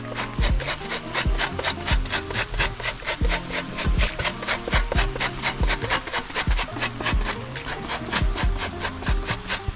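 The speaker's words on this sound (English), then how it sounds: "So we're gonna grate the coconut all over it." Coconut is grated by hand in a kitchen: quick, even, rasping scrapes repeat about three times a second, close and steady, with light knocks between strokes.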